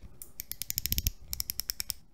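The brake adjustment dial on a KastKing Royale Legend Pro baitcaster reel turns with a rapid run of crisp, close, detented clicks, about twenty in two seconds, with a short pause in the middle.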